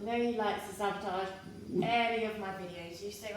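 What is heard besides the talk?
No distinct noise like a dog, phone or traffic.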